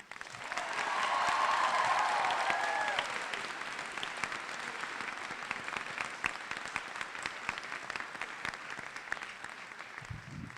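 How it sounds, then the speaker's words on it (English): Sustained applause from the audience at a 2017 high school graduation ceremony for an academy of international studies, honoring the band; dense clapping swells for about three seconds, then continues steadily at a slightly lower level. "Round of applause,"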